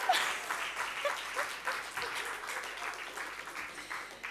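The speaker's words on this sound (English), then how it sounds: "Big applause for Francis." An evening-show audience breaks into clapping for a performer, a dense, moderately distant patter of many hands that rises at first and then stays steady, with faint voices mixed in.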